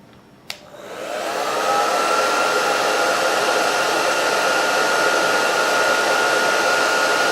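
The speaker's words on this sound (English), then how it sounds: "I'm going to use my blow dryer, and I'm just going to put it on low" A handheld blow dryer on its low setting clicks on and spools up into a steady, loud whooshing hum that holds unchanged, used to soften nail wraps, with no talking.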